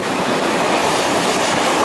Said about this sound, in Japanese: まもなく列車が入ります。